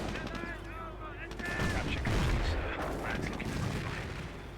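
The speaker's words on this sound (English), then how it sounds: "There's butterfly bombs now everywhere." Explosions from butterfly bombs in the WWII strategy game Company of Heroes, a dense barrage of blasts and gunfire swelling near the middle, with voices faintly mixed in.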